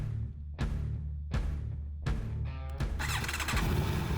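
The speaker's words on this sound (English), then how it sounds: "some road and track action on the awesome Aprilia Tuono V4 Factory" Aprilia Tuono V4 Factory 1100 Italian naked sport motorcycle riding on roads near Austin, Texas, its engine loud and close, rising and falling in repeated revving bursts between gear changes, ending in a sustained harsh roar.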